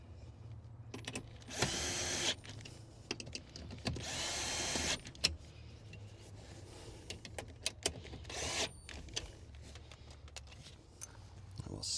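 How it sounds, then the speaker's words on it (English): A power driver runs screws back into a Honda CR-V rear seat latch in several short whirring bursts with small clicks and handling noises between them, close and fairly quiet. "We'll screw these back in here like this."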